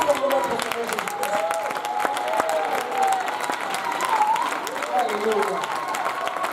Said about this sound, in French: Acclamons ensemble notre Seigneur Jésus-Christ.